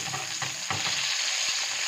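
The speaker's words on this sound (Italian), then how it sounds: "butto subito i pomodori e li faccio friggere anche loro qualche secondo" Tomatoes frying in oil with garlic in a pan, cooked for a baccalà and potato dish, give a steady, close sizzle with a few stirring scrapes and no talking.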